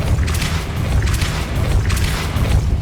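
A Depulso spell cast in Hogwarts Legacy: a heavy, rumbling magical boom with repeated surging whooshes over a deep low end, loud and continuous.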